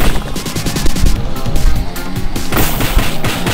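Rapid gunfire in the video game The Second Samurai, a loud continuous stream of fast shots with crashing impacts throughout, close and dense with no pauses.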